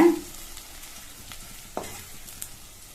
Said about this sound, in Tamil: சேர்த்துட்டு லோ ஃப்ளேம்லயே வச்சு 2 நிமிஷத்துக்கு நல்லா வதக்கி கொடுங்க